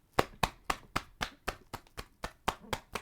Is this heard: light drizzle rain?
no